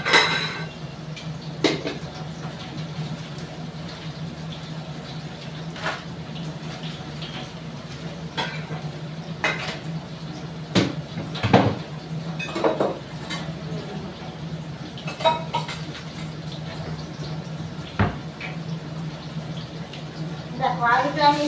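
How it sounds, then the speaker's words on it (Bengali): Potatoes are stirred in a cooking pan with spatula scrapes and clinks at a steady, close pace over a low constant hum, and a voice talks at intervals. "দেখো আলুটা আমি একটু নেড়ে দিই"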